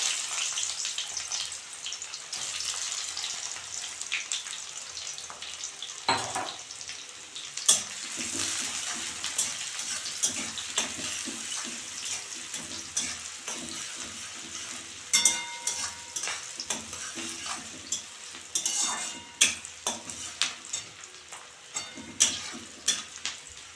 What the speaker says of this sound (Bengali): পেঁয়াজটা একটু হালকা করে ভেজে নিয়েছি